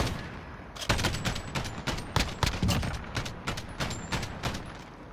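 Rapid gunfire during a hunt in pine woods: a dense string of sharp, loud shots in quick succession, some overlapping, continuing throughout with no talk.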